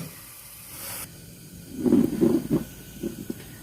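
Onions sautéing in olive oil in a covered pan give a soft steady sizzle and hiss that swells briefly with louder crackles and spits, close and without talk.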